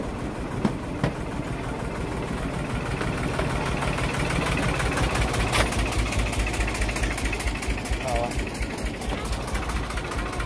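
A Cleethorpes miniature railway train engine idles with a steady mid-pitched rumble, loud and continuous throughout, with people talking in the background.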